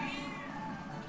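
The Catbus from the Ghibli film, appearing as a stage element in Super Smash Bros. Ultimate, gives a single drawn-out meow, steady and close, with game sound running underneath.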